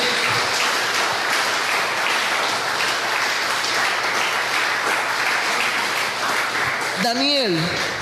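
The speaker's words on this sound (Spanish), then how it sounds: "Dale un fuerte aplauso al Señor en esta noche." Church congregation applauding during a Spanish-language evening sermon, a steady dense wash of clapping that lasts throughout, with a voice briefly rising near the end.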